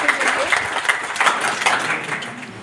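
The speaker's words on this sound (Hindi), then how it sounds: "उनके लिए पहले ज़ोरदार तालियां।" A college audience at a World Environment Day celebration bursts into loud, dense applause, many hands clapping close together before it gradually tapers off.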